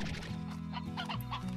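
Chickens cluck in the Slime Rancher video game, a steady run of clucks and short calls over continuous background game ambience, fairly quiet and with no talking.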